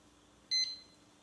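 A single short electronic kitchen timer beep, sharp and tonal, against a quiet background.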